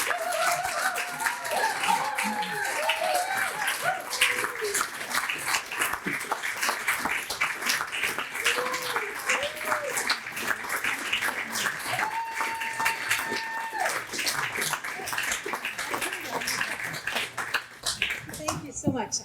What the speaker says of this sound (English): Please come forward and let's have a round of applause for Nancy Sheep.